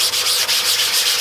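Cleaner being rubbed by hand over a screen printing screen makes a close, loud, scratchy scrubbing sound in quick repeated back-and-forth strokes, with no talking.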